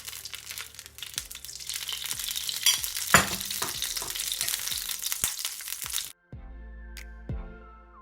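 A taco frying in oil in a pan crackles and sizzles steadily with sharp popping spatters, close and continuous, then cuts to quieter sizzling near the end.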